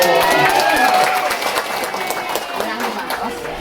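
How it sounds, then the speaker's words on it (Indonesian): An audience at an event at LPI Al Musthofa in Bandung claps in a steady, dense patter that fades slightly after the first second, mixed with crowd chatter and voices. "Tepuk tangan atuh."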